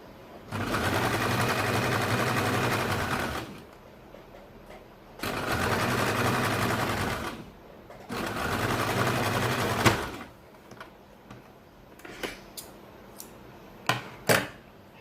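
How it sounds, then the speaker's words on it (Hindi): An electric sewing machine stitches a baby's circle frock in three long, steady whirring runs separated by pauses, followed by scattered light clicks and snips. "तो यहाँ पे हम सिलाई लगाते हैं।"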